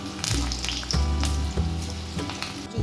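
Sweet pitha cakes made with butterfly pea flower sizzle steadily in hot oil, a dense continuous frying crackle with a few soft clinks and stirring bumps, close and fairly loud, with no talking.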